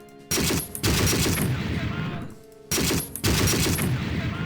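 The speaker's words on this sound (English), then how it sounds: "Let me keep firing at the men in this building." Two bursts of rapid automatic gunfire aimed at enemy soldiers inside a building in the Battle Academy war game, each a loud rattling volley lasting over a second, separated by a brief quieter gap.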